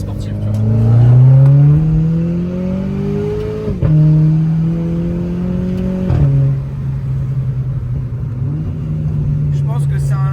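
A 220-horsepower, 1.2-tonne small sports car accelerates hard, its engine note climbing through the gears with two sharp shift breaks. The sound is loud and close, and people talk inside the car over it.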